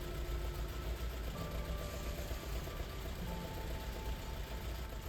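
An Alfa Romeo Alfetta 2.0 Quadrifoglio Oro with freshly balanced Solex carburetors idles smoothly and evenly, a low steady engine rumble with faint humming tones, close by and without talk.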